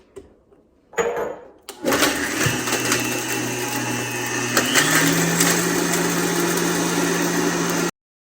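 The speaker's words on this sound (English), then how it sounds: "I'll just put them in my Vitamix. And you'll see we'll have tomato powder in just a minute or two." A Vitamix blender grinding dried tomatoes into powder: a few clattering bursts as it starts, then a loud, steady high-pitched whirring motor drone that shifts pitch slightly midway and cuts off abruptly.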